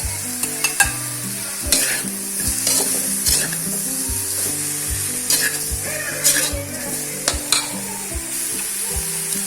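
Chili paste for nasi goreng fries in a hot pan while being stirred, a steady close sizzle broken by repeated sharp clinks and scrapes of the utensil against the pan.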